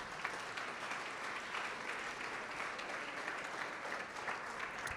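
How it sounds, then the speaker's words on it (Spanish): A church congregation applauds during a sermon, a steady, moderately distant roar of many hands clapping that stays even from start to finish. "Denle un aplauso a Cristo"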